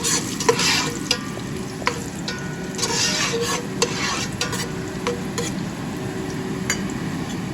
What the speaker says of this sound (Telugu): ఇప్పుడు నేను రైజన్స్ వేయించుకున్నాను